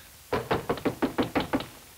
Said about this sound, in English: So I broke up the big silence and knocked.